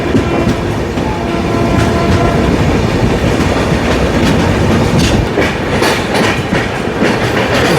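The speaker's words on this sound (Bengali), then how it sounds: "আর আমাদের ট্রেন নিউ ফারাক্কা জংশনের 4 নম্বর প্ল্যাটফর্ম থেকে এইমাত্র ছাড়লো 21 মিনিট দেরিতে।" A Humsafar Express train rolls along the rails after leaving New Farakka Junction, a loud, steady rumble with rhythmic clickety-clack of wheels over rail joints and occasional metallic squeals, heard from on board.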